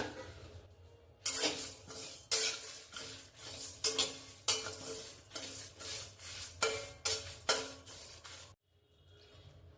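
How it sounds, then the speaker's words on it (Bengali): Spices fried and mixed in a kadai, a series of brisk metal scraping and stirring strokes over a faint sizzle, close and loud in bursts, ending in a brief quiet stretch, with no speech. "এবার এই কড়াটার মধ্যে আমি মশলাগুলো দিয়ে দেবো। এবার এই সবগুলোকে একসঙ্গে মিশিয়ে ভেজে নেব।"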